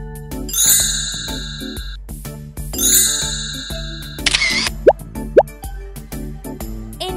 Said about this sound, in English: Rainbow Playtime Selfie Lens Camera.